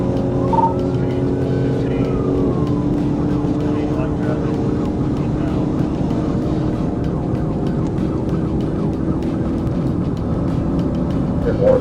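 A white Nissan Versa tears down a highway at over 100 mph in a police chase, its engine and road noise a steady, loud roar with faint voices murmuring underneath.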